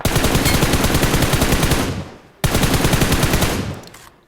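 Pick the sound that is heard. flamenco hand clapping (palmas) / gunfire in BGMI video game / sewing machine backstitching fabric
gunfire in BGMI video game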